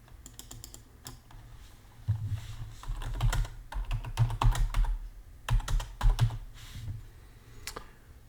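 Computer keyboard keys tapped in quick irregular bursts with short pauses, close and fairly quiet, no talk.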